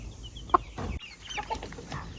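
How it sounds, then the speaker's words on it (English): Chickens in a large farm coop let out a few sharp clucks and soft calls, one louder near note standing out over a low ambient hum. "there's a lot of chickens in the big coop"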